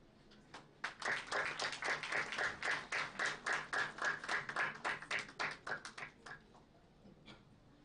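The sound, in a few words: audience applause welcoming a guest at a conference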